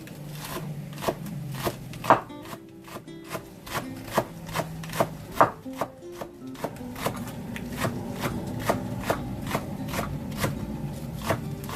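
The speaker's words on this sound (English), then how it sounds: "I'm chopping cilantro and my spring onions" A knife chops cilantro and spring onions quickly and steadily on a board, sharp taps repeating close by in an even rhythm, with no talking.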